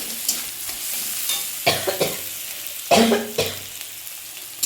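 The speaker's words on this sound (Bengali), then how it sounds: "এখানে দেখো এবার শাকটা ভেজে নেব।" Chopped onion, garlic, green chilli and dried red chillies fry in oil for a greens dish, giving a sizzling hiss broken by a few louder bursts as a spoon stirs the pan.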